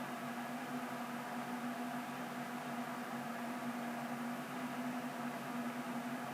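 Lian Li SL120 clone PC fans with infinity mirror lighting run at full speed, about 2100 RPM, giving a steady, even whoosh of air with a low constant hum, unchanging and alone.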